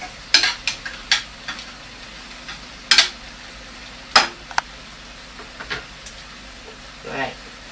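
Steak frying in a pan for a healthy steak dish: scattered sharp crackles and pops over a faint steady sizzle, with occasional utensil clicks, close by.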